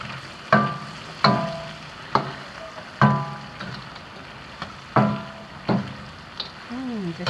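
Chili pepper chicken with lots of peppers stir-fried in a wok: repeated sharp scraping and clanking strokes of a spatula against the pan at irregular intervals over a low sizzle, close and clear.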